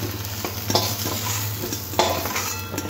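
Kochur loti, taro stolons, frying in a pan of oil: a steady near sizzle with a low hum beneath, punctuated by several scraping strokes and light clinks of a utensil stirring.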